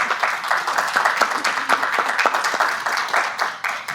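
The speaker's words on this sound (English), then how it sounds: "Give her a round of applause again." Audience applause at a school community gathering honoring an assistant principal, a steady dense patter of many hands clapping close and fairly loud for the full stretch, with no voices over it.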